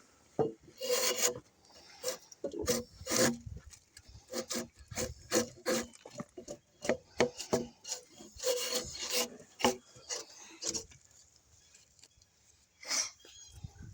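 A drawknife scrapes bark off a log in a series of close, uneven rasping strokes, some in quick clusters and others spaced apart, with pauses between them.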